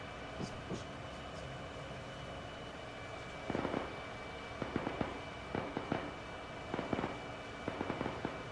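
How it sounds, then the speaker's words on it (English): AK rifle gunfire: faint, distant bursts of sharp cracks, a few shots at a time, separated by quiet gaps in a low background hush. "Sounds like an AK, to be honest."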